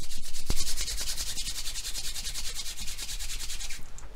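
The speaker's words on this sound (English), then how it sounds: "you throw them together and then you rub them on each other like this, up and down" Two hands are rubbed quickly up and down against each other in a science demonstration, making a fast, steady, rhythmic swishing friction close up that runs unbroken for about four seconds.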